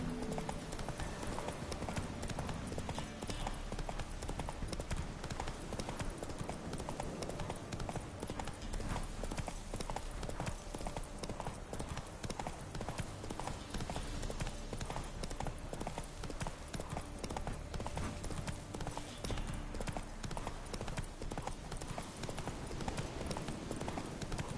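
Rapid, steady hoofbeats of a horse galloping in The Witcher 3 run continuously for the whole stretch, loud and close, layered over dense game sound.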